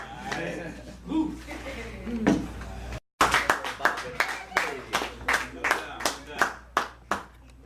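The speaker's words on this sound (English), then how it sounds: "Give y'all self a round of applause, please." Audience clapping at a hip hop showcase, where talk and laughter give way after a brief cut to a run of loud, sharp, rhythmic claps close by, spaced about half a second apart.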